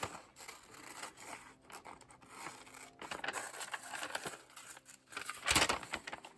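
Paper scissors snipping along a curve in paper in a series of close, crisp cuts, with rustling between them and a louder crunch near the end.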